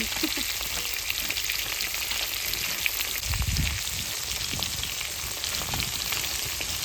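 Prawns frying in oil in a pan for malai curry give off a continuous crackling sizzle at moderate level, with one low thump partway through and no talk.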